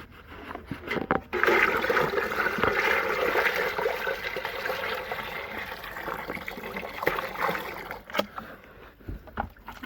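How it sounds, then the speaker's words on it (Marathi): Water runs into a bucket while being transferred from another container: a steady, fairly loud rushing pour that starts after a brief pause and continues for several seconds before cutting off near the end. "आता ही बादली भरलेली आहे गच्च"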